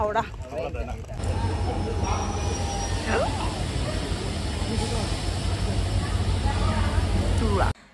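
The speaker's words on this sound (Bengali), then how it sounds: "এই যে দেখো এটা হচ্ছে লোকাল ট্রেনটা আসলো" A local train arriving at a station rumbles steadily close by with a continuous heavy roar and hiss, with faint squeals and voices in the background.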